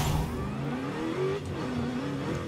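A Mercedes sleeper build revs steadily from the cockpit view in Forza Horizon 5, a smooth engine note climbing and dipping through gears at moderate loudness with no talk over it.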